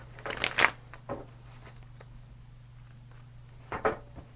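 A tarot card deck is shuffled by hand in a few quick riffling bursts, with a pause between them, close and fairly quiet against a low steady hum.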